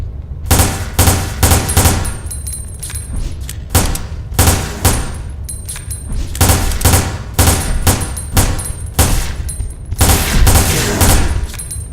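Rapid bursts of pistol gunfire in the video game Resident Evil Dead Aim, loud sharp shots in quick clusters separated by short pauses, with faint high electronic tones between volleys.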